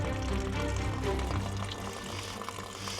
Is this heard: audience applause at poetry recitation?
no